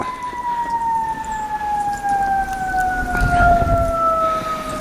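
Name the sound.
fire truck siren approaching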